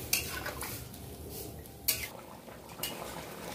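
Potato curry for alur dom being stirred and fried in a pan, a ladle scraping and clinking against the metal a few times over a soft background sizzle, no talking.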